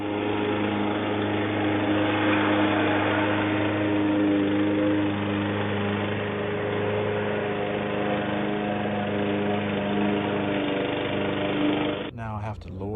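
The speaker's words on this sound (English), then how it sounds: "Now I have to lower the lawnmower, and I'm gonna cut near the edge here." A lawn mower engine drones steadily and loudly while cutting grass, a constant close hum that holds for the whole stretch before shifting abruptly at the very end.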